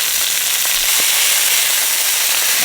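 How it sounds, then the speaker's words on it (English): Steak sears in a hot pan with loud, close, continuous sizzling and crackling, bright hissing spread evenly through a short burst and no voices. "So we're going to sear this for about 3 to 4 minutes on both sides."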